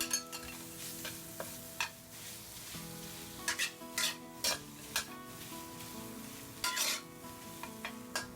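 Chopped shallots, preserved radish, dried shrimp and pork stir-fried in hot oil in a wok, a steady sizzle broken by intermittent scraping and clanking of a spatula against the pan.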